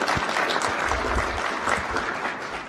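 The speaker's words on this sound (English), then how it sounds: "I'd like you to give your families a round of applause for all that they've done to support you" An audience applauds at an Executive MBA graduation ceremony, a dense, steady wash of many hands clapping throughout.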